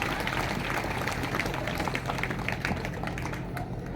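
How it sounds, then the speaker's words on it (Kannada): Audience applause at a religious gathering attended by a revered pontiff, a dense steady wash of many hands clapping together for the full stretch, fairly loud and even, with no talk rising above it. "ಜೋರಾಗಿ ಒಮ್ಮೆ ಚಪ್ಪಾಳೆಯನ್ನು ತಟ್ಟರಿ"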